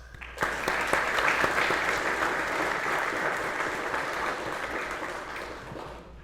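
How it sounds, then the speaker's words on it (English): Sustained applause from a graduation ceremony audience honoring award recipients at a Border Patrol academy, a dense steady clapping that swells quickly and continues evenly before gradually tapering. "Please join me in giving the award recipients a round of applause."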